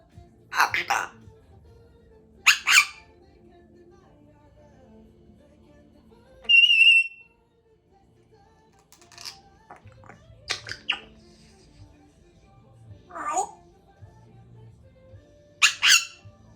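An African grey parrot whistles and squawks indoors: scattered sharp calls and one clear pure whistle, close and fairly loud, with people talking quietly between them.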